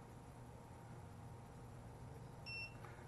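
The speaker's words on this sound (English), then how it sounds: "Just push and hold it, you'll hear it beep." A single short, high electronic beep from a Jepwco G4 Pro anti-spy bug and camera detector rings out near the end over a quiet background hiss.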